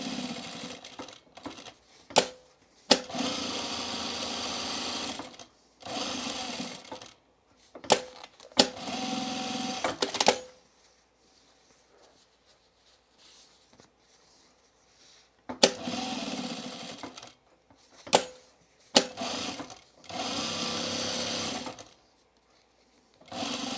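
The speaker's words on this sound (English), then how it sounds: "I'm gonna sew across these 3 sides, just edge stitch it" A sewing machine edge stitching overall pieces runs in several close, loud bursts of rapid whirring, separated by pauses and a longer quiet gap in the middle.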